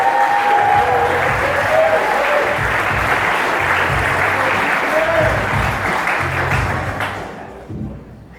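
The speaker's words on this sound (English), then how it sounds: "Give him a huge, huge round of applause." Comedy club audience at the Laugh Factory Chicago applauding comedian Derek Minto, a full steady round of clapping with some crowd noise and faint voices underneath, thinning out at the end.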